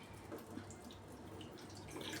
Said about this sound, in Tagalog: Magpainitan tayo ng tubig. Lagyan natin sa munggo